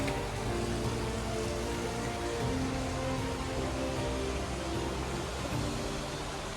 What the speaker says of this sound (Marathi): बघू शकताय बाहेर किती पाऊस आहे भरपूर अतिशय प्रमाणामध्ये पाऊस आहे